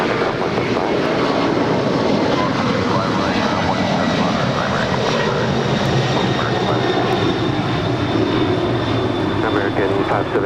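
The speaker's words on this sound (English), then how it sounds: "is Moss Air Cargo Flight 6867 departing to Guadalajara. It's a 15-year-old 767-300 freighter." A 15-year-old Boeing 767-300 cargo freighter departs LAX, its jet engines giving a loud, sustained broadband roar with a steady high whine across the whole stretch, and a voice talks over it.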